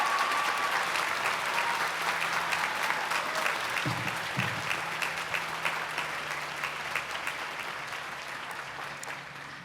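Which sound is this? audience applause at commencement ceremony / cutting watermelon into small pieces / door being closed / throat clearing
audience applause at commencement ceremony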